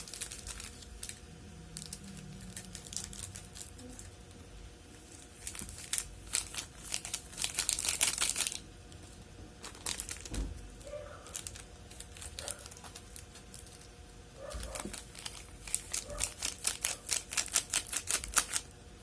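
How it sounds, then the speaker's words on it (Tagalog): Packet of Milo chocolate malt powder being opened for a no-bake cake, giving repeated crinkling and tearing rustles of plastic packaging, with dense bursts near the middle and again toward the end, close and fairly loud, no talk. "Buksan natin yung Milo."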